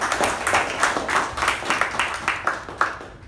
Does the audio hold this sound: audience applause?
yes